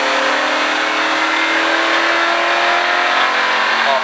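A race car on a track accelerates steadily at full throttle as part of a Richard Petty driving experience, its mid-pitched engine drone loud, close and continuous with no pauses.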